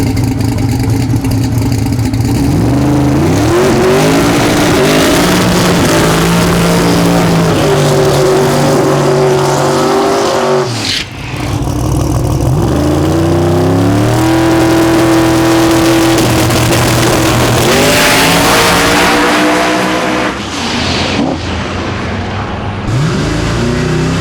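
Drag race car making a pass, its engine loud and close as it revs hard through repeated rising gear pulls, a brief gap near the middle, then more hard acceleration fading toward the end.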